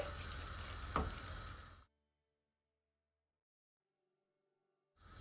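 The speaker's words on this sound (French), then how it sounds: "Et je rajoute la pulpe de tomate. Je vais bien mélanger." Tomato pulp being stirred into a frying pan for penne alla napoletana, a steady sizzle with a spoon scrape for about two seconds before the sound cuts to near silence.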